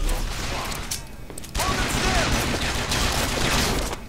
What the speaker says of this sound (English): Why is everyone shooting at me now?